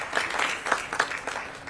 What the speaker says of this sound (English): You really deserve a round of applause